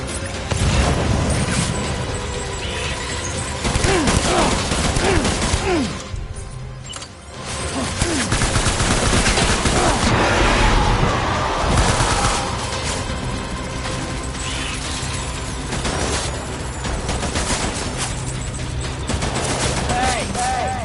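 Gunfire in the video game Death Stranding: a dense, sustained fusillade of shots and bursts filling the scene almost without pause, with voices shouting over the combat.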